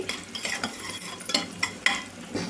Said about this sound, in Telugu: చూడండి, లైట్గా అయితే ఉల్లిపాయ ముక్కలు వేగాయండి.